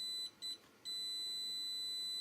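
High, thin beeping from a multimeter continuity test on a laptop, a tone that cuts on and off twice in quick succession and then holds steadily.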